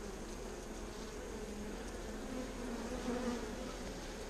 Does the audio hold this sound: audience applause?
no